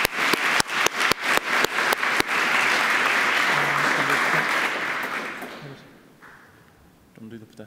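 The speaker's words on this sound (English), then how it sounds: "Can everyone give a round of applause to my assistant," A conference audience claps for a presenter's assistant, opening with a few separate sharp claps that swell into a dense, sustained round of applause before fading out, with a voice briefly heard at the end.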